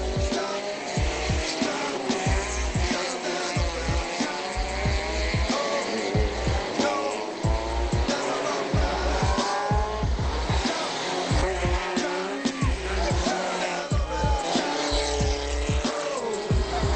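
A 200-horsepower rally car in the R1 class races hard, its engine revving up and down through repeated gear changes with squealing tyres and skids, loud and close throughout.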